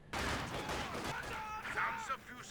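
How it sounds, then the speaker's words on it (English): An MG42 machine gun in a real-time strategy war game fires rapid bursts among other gunfire, loud and dense under excited commentary voices. "MG42 shooting really late"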